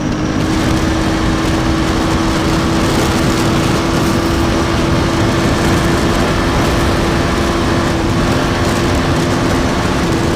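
KTM Duke 250 motorcycle engine revving hard under acceleration, a loud, steady drone with strong wind rush throughout, sustained at close range without any talking.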